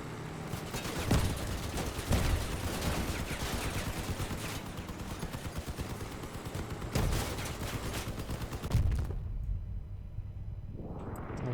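Vehicle-mounted guns fire in the Crossout game with bursts of rapid shots and several heavier thuds in between. The shooting is loud and steady, then cuts off toward the end, leaving a rising whine.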